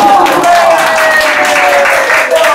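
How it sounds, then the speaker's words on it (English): Brief but full applause from a poetry slam audience, steady clapping close by with voices faintly mixed in. "A grudging round of applause for Pete."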